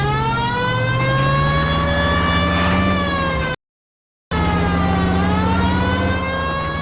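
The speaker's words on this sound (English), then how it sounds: "It's much more fun with the siren on, Phelps." Police car siren in the video game LA Noire, a loud wailing tone rising and falling steadily, cut off by a brief gap of silence and then resuming.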